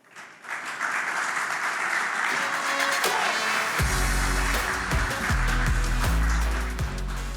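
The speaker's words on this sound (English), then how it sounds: "we have a round of applause for the team" An audience at a Mercedes-Benz and Pulsetrain award presentation breaks into sustained, loud applause that swells quickly and holds steady, joined partway through by booming stage music.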